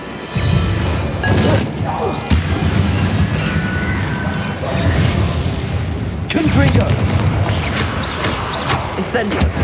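Hogwarts Legacy spellcasting, including the Incendio fire spell, brings loud booms and crashing impacts. Two heavy blasts land about four seconds apart, and a turbulent rumble fills the gaps between them.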